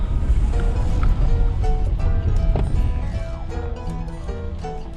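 A high-flowing mountain stream rushes loudly and steadily along a remote early-season road, a dense close wash of water noise with faint higher tones scattered through it.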